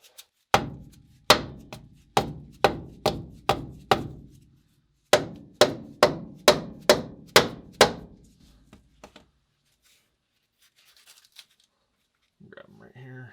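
A hammer strikes a stuck part under a 1977 Ford F250 pickup in two quick bursts of sharp metallic blows, about seven in each, followed by quiet and a brief murmur of voice at the end.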